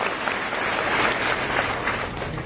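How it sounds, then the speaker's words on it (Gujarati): At a Thakor community blood donation camp in Harij, an audience claps steadily to honour the donors, a dense, even wash of applause lasting throughout with no pause. "જેને આજે બ્લડ આપ્યું છે તમામ દાતાઓ માટે તાળીઓ પાડીને એમનું સન્માન કરો"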